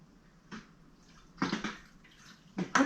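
Soft pretzels lowered one at a time by a large slotted spoon into a big kettle of hot water and baking soda, giving a few soft splashes and plops, quiet and close with short pauses between.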